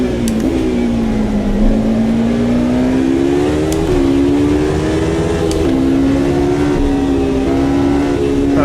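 A race car engine in Assetto Corsa, racing through Adelaide in close traffic with a Red Bull Porsche prototype, drones loudly and steadily with a rising and falling pitch as it accelerates and shifts, continuous and close, with no talking.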